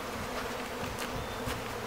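Honeybees buzz steadily at a beekeeping feeder, a dense, continuous close-up hum with no talking.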